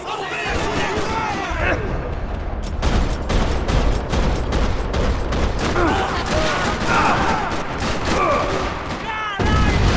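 Dense gunfire rattles through a parking lot in the video game Max Payne 3, with rapid overlapping shots and bursts firing continuously and loudly, a few harder impacts standing out and voices shouting under the barrage.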